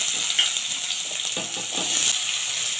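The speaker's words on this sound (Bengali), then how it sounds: "তেলটা আমার গরম হয়ে গেছে এবারে আলুগুলো দিয়ে দিচ্ছি" Potatoes drop into hot oil in a wok and fry with a steady, bright sizzle, loud and close, with light stirring and no talk.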